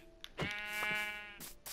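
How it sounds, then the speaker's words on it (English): A sheep in the video game Minecraft lets out a quiet, wavering bleat lasting about a second, with soft clicks around it. "Die, stupid sheep."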